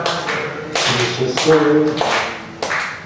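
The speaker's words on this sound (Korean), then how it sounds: "이처럼 박수 치면서" A church congregation at a Sunday afternoon praise service claps along to a hymn, sharp hand claps landing in a steady beat with singing voices between them, close and loud.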